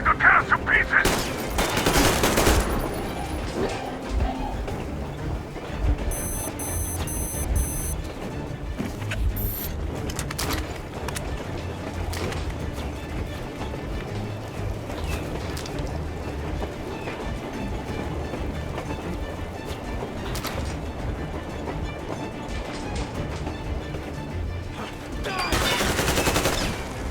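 Gunfire in Metro Exodus crackles in repeated bursts over dense combat noise, with louder volleys at the start and close to the end.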